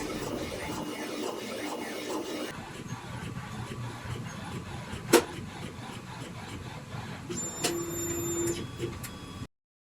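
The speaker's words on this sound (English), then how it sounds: "First, we have to print the white basic color, and the next step will be the multiple colors." A printer lays down a white base colour for a design, making a low mechanical whirring and sliding carriage noise, with a sharp click halfway and a higher whine near the end before it stops.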